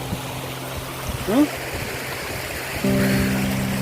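Water spilling down a rocky hillside waterfall at Raikal near Warangal, swollen after rain, makes a steady broadband rush with a low droning hum, briefly joined by a voice.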